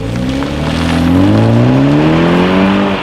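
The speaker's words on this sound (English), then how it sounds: "330i sedan here, X-Drive, in sport mode here, up to speed" A 2019 BMW 330i xDrive sedan in sport mode accelerates hard, its engine note climbing steadily in pitch through a sustained, loud, close run with no pause.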